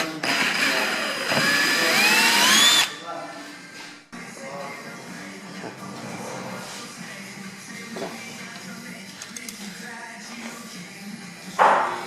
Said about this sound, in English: We're going to use a 3/16" drill bit. We're going to go ahead and drill right through